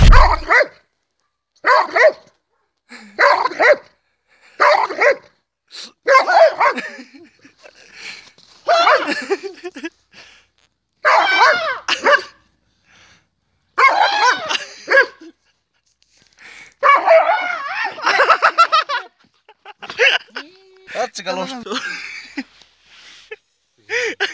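A chained dog barks loudly and close by in repeated short bursts of several barks, with brief pauses between volleys.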